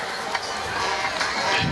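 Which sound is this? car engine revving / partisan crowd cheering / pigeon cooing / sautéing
partisan crowd cheering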